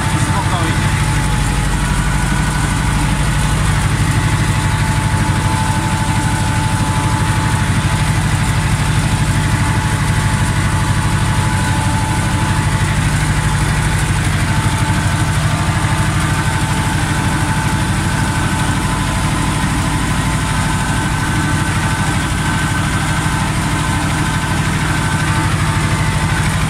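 Ursus C-330 tractor engine runs at a steady idle, a constant loud low rumble with no change in pace, heard close up for the whole stretch.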